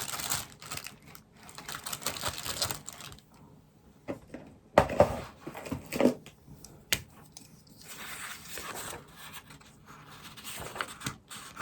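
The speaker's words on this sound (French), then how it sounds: "Je vais prendre un petit cutter." A small craft knife cuts into a paper book page, making soft close scratching and slicing strokes with a few sharper clicks and scrapes, fairly quiet and spread irregularly throughout.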